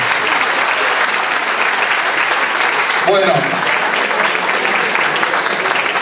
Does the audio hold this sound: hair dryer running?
no